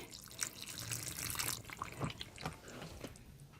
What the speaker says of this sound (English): now we're just going to add in the broth a little bit at a time